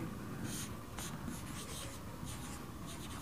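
Chalk or marker scratching across a board during a lesson, in short repeated strokes with brief pauses, fairly close and steady, with no talk.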